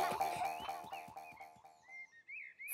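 A cartoon frog croaks in a children's animated show, a run of rhythmic, close croaks pulsing steadily at first, then thinning into a few higher, drawn-out calls with short gaps between.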